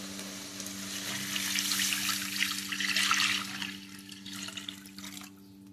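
Water poured into a pan of upma being cooked, a steady splashing rush that builds over a few seconds, peaks, then tapers off, close by and alone.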